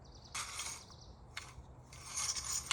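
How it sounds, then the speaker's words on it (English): Small chainsaw pull-started by hand, its rope recoil rattling and ratcheting in three short bursts with gaps between, the engine turning over without catching, fairly quiet and close. "I just got it to crank over with pull cord."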